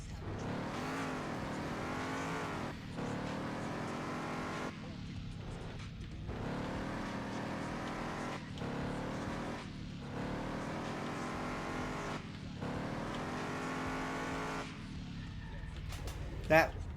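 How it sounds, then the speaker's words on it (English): A car engine revs and drones continuously in a racing game as a car is driven down a mountain road, with pitch rising and falling through repeated gear-shift cycles under steady talk. "I want to say this car is amazing and fantastic to drive"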